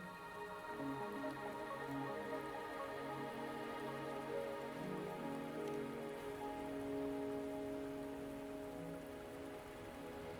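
Steady rain falling in the video game Wuthering Waves, a soft continuous patter heard under sustained musical tones, at a low even level without speech.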